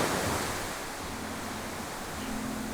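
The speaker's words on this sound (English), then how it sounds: "We can hear the ocean lapping at the beach behind us, a few waves off in the background." Ocean waves lap at a beach in Fiji, a soft continuous wash of surf with a gentle swell at the start, steady and moderately distant, no voices.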